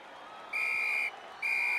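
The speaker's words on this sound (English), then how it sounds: "And there goes the final whistle." A referee blows the final whistle to end a football match, two long shrill blasts separated by a short pause, clear above a steady crowd murmur in the stadium.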